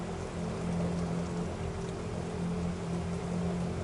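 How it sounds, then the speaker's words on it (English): Steady rain falls at night against windows, a continuous, even hiss with a low hum beneath, with no voices and no change in intensity. "Rain returned after midnight."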